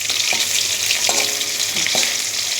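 Koi fish fry in a hot pan with a loud, constant sizzle, broken by a few brief scraping and clinking knocks as the pieces are turned over, with no voices.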